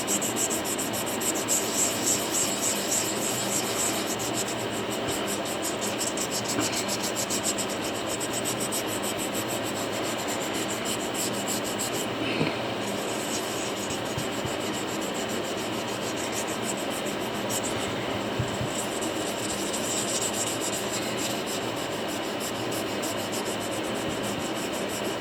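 Fossil echinoids being polished on a multi-block, a steady continuous rubbing and grinding that runs close and even from start to finish with no voices.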